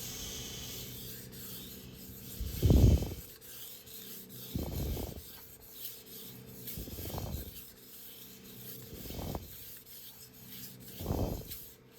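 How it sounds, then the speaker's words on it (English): Knife blade pushed along a Shapton Kuromaku 1500 grit whetstone, five separate gritty rasping strokes spaced about two seconds apart, close and moderately loud, with no talking. "This does work as a sharpening stone if it's just dull and doesn't have chips, so we'll keep going."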